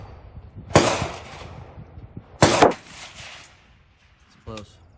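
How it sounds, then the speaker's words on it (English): Two sharp, loud gunshots from a Colt M4 LE6920 SOCOM rifle crack out about two seconds apart, each with a short ringing tail, followed by a fainter clatter near the end. "This Colt is shooting pretty well."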